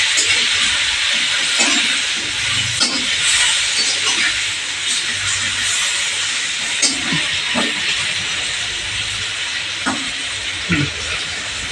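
Stuffed brinjal cooks in a covered pan with a steady, soft hiss of steam and sizzling, punctuated by occasional light clicks and knocks.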